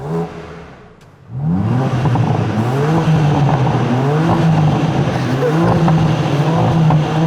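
A BMW M4 in loud exhaust mode bursts into a sustained rev after a brief lull, its engine roaring up and down in repeated swells close by, loud and alone.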